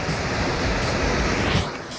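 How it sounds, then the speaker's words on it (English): Loud storm sewer drain by a creek on a side street, with water rushing in a steady, dense roar that holds constant throughout without pause. "Very loud storm sewer."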